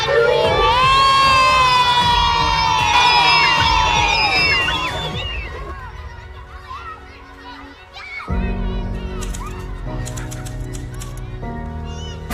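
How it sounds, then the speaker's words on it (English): A crowd of children and adults at a campaign launch event in Kenya cheers and shouts loudly for the First Lady, then settles into a quieter murmur of voices and clapping. "A round of applause, a good one."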